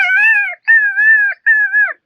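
A man imitates a koel cuckoo call with his voice. Three clear, sustained whistled notes follow one another quickly, loud and close, against silence.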